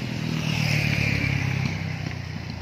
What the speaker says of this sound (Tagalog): Ayan, puro tricycle, puro motor lang.